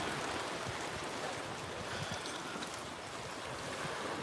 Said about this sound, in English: Oh, they got this water fountains fixed.